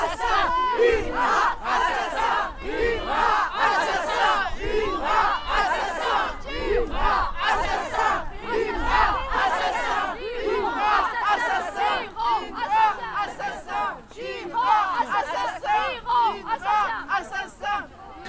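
Rally crowd at the Trocadéro in Paris shouting angrily in unison, rhythmic chanted cries and agitated voices rising and falling over about eighteen seconds, with a murmur of chatter underneath.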